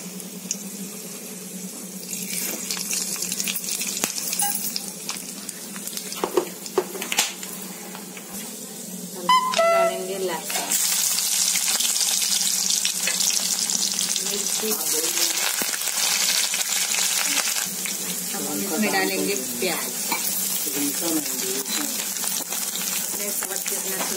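Panch phoron spices hit hot oil already holding cinnamon, black cardamom, black pepper and cloves, setting off a loud, steady sizzle and crackle that builds after a few seconds of clatter and stays strong to the end, with a voice talking over it.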